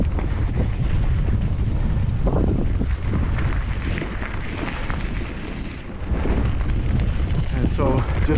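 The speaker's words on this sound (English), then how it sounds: "that wind is awful" Strong wind buffets a microphone outdoors along a railway line, a loud continuous roar that dips briefly before surging back.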